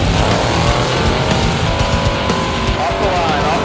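A 2013 Best in the Desert Mint 400 off-road race vehicle launches off the start line with a loud, sustained engine roar and some tire noise, while a voice is heard over the din.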